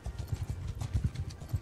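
Horses in Mount and Blade 2 Bannerlord make a quick run of hoof clip-clops at moderate loudness, with no speech over it.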